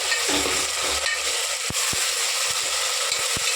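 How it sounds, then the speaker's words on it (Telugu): Tomatoes sizzling and frying with onions in a pan for mutton curry, a steady broadband hiss with a few sharp clicks and stirring knocks scattered through, no voices. "టమాటా కూడా ఫ్రై చేసుకున్నాను కొంచెం"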